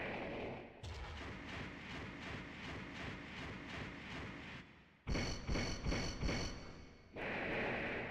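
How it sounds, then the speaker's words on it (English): Small explosion pops and gunfire-like bursts from the Armored Core mech combat game, a loud, dense volley breaking out over steady rhythmic mechanical thudding that drops away briefly before resuming. "That little explosion pop."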